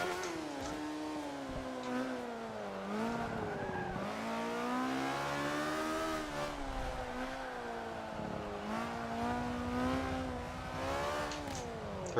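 A race car engine in a racing game revs through a corner, a continuous fairly quiet motor whine rising and dipping in pitch as it brakes and accelerates, with faint tyre noise.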